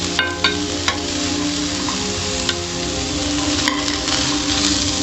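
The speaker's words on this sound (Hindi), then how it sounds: "अब हमारी गाजर फ्राई हो चुकी है।" Grated carrots fry in hot oil in a pan, a dense, even sizzle heard close up, broken by a few sharp clicks and taps of a spoon stirring.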